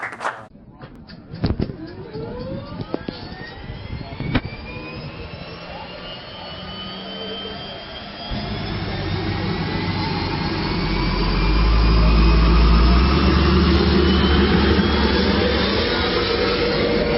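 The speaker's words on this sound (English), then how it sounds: "We got an airplane running over there ready for us to get on." A jet-powered airplane readied for a skydiving flight spins up, its whine rising and swelling into a loud, steady roar, with scattered clicks and knocks early on and people talking over the engine.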